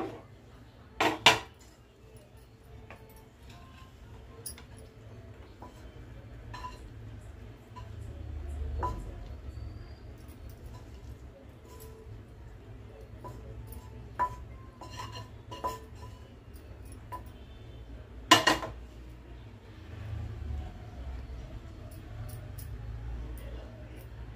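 Fried okra (bendakaya fry) spooned onto a plate, heard as sparse metallic clinks and scrapes of a spoon against cookware, with a couple of sharper clanks over quiet kitchen background.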